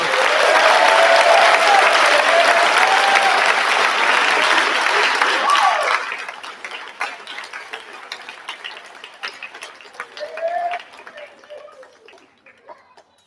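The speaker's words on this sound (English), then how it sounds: "Another round of applause for the class of 2023." An audience at a middle school moving-up ceremony applauds the class of 2023, a loud dense wave of clapping with faint voices that thins after about six seconds into sparse scattered claps and murmur.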